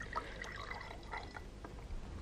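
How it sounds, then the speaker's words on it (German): Fruit juice is poured from an opened Coop carton into a glass, giving a faint, soft trickling and splashing stream with no talking. "Und schon können Sie leicht und sauber einschenken."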